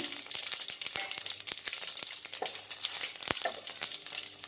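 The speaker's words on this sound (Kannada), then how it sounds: "ಪ್ಯಾನ್ನಲ್ಲಿ ಆಯಿಲ್ ಹಾಕಿ ಆಯಿಲ್ ಬಿಸಿ ಆದಮೇಲೆ ಸಾಸಿವೆ, ಒಣಗಿರೋ ಮೆಣಸಿನ್ಕಾಯಿ" Mustard seeds and dried red chillies fry in hot oil in a pan on the stove for hotel-style idli sambar, a steady close crackle and sizzle with sharp seed pops scattered throughout.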